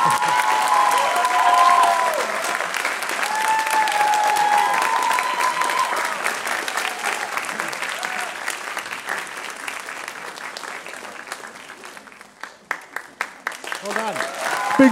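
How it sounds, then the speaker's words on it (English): Loud, sustained audience applause at a school arts festival orchestral concert, a dense wash of clapping that fades gradually before a few scattered claps and a fresh swell at the end. "Big round of applause."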